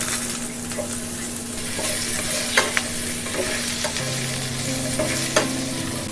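Carrots stir-fried in a pan for a beef steak dish, a steady loud sizzle with spatula scrapes and stirring clatter throughout, no talking.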